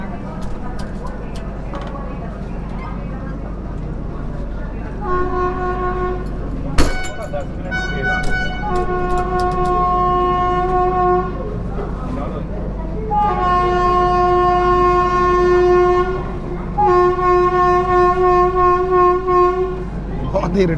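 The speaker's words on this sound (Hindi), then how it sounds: "देखिए वो जो ट्रेन आ रही है" A train pulls into a station, rumbling along the rails with several sustained horn blasts, some long and some in short bursts, sounding loud and near over general background noise.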